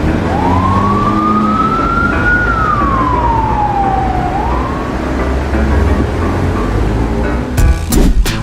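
A police cruiser's siren sweeps in a long rising then falling wail, loud and steady over road rumble, with a brief burst of sharper noise near the end.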